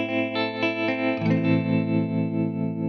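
A sustained guitar chord pulses through a tremolo effect on a Headrush pedalboard in a steady, wavering throb, volume swelling and dipping rhythmically as a new chord rings in midway.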